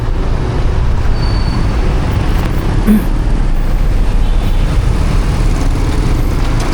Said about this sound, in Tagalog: Medyo busy pa that time yung mga sasakyan, maraming mga sasakyan